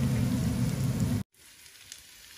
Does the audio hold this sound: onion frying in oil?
yes